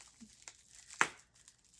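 Soft rustles are followed by one sharp crinkle of tissue paper while unwrapping a pen package, close and brief, then quiet handling.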